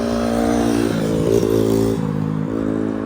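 A dirt bike engine revs close by on a trail, a steady loud harmonic drone that rises and dips in pitch through the throttle changes, with no talking over it.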